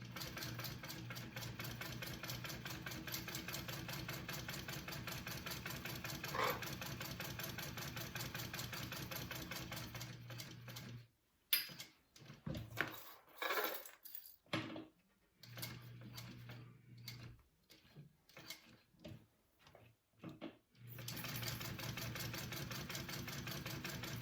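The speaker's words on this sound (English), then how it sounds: "And now I'm sewing at an 1/8 inch seam allowance, okay, not backstitching." A sewing machine runs in steady rapid stitching bursts while stitching a bag seam at an eighth-inch allowance, faint and close, a continuous mechanical whir broken by short stop-start pulses in the middle before running smoothly again.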